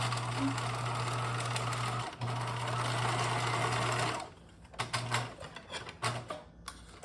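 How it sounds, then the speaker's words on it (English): A sewing machine runs a steady, close stitch along the folded edge of a mock French seam for about four seconds, then gives several short stop-start bursts. "I'm going to stitch as close as I can without going over."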